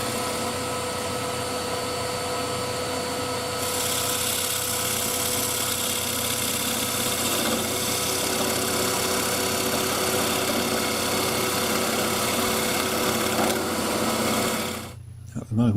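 Wood lathe turning a workpiece held on a woodworm screw while a round nose scraper cuts, a continuous loud motor whir with scraping texture throughout, ending abruptly.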